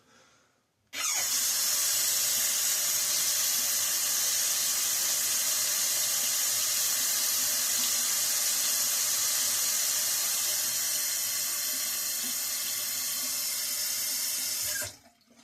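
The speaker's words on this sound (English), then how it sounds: "So you fill up the outer bowl with water through the nozzle" Water streams steadily from a nozzle into the outer bowl of a Phoenix Moonscape shaving soap scuttle, a bowl-within-a-bowl design, a close, loud continuous hiss and splash lasting about fourteen seconds before stopping abruptly.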